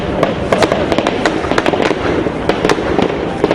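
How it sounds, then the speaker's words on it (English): Explosions and gunfire during the Westgate shopping mall siege in Kenya, a dense, loud burst of cracking shots and blasts that rattle on steadily with sharp repeated reports across the whole stretch. "A huge explosion and an eruption of gunfire,"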